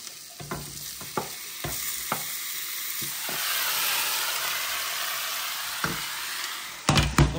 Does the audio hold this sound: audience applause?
no